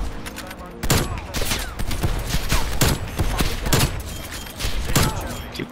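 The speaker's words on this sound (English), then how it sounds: "Incoming artillery." Heavy explosive blasts and rapid gunfire crash through an intense video-game firefight, loud and dense, with bursts hitting roughly every half second over a constant battlefield rumble.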